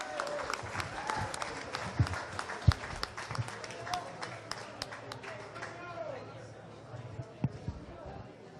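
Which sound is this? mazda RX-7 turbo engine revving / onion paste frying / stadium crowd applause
stadium crowd applause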